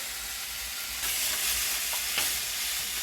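Garlic is stirred into ground turkey frying in a pan, producing a steady close sizzle with scraping stir strokes over it.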